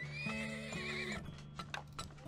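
A horse in the video game Turmoil gives a clear, close whinny over a few quick clip-clop hoofbeats, with no talking.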